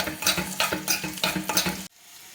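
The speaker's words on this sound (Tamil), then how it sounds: "இந்த நெய்யில் இந்த பூண்டை நல்லா வதக்கிக்கலாம்" Garlic sizzles in hot ghee, with several rhythmic stirring scrapes through the crackle before the sizzling abruptly cuts away to quiet.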